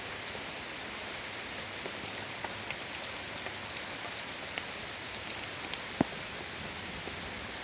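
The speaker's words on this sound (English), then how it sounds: "It's raining pretty good right now." Rain falls steadily and close by onto a moss lawn, a constant soft hiss with scattered individual drops ticking and one sharper drip standing out. No voices.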